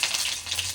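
Garlic hits hot tempering oil with cumin in a pan for buttermilk kadhi, giving a steady, close, bright sizzling hiss that lasts under a second.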